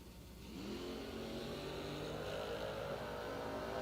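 A drag racing car at an IHRA World Finals meet revs at the start line, its engine building to a steady, loud rumbling roar that holds on.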